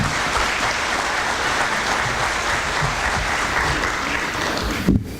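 An audience at a police open-carry forum applauds to welcome a speaker, steady dense clapping filling the room throughout, ending with a brief bump of noise near the close.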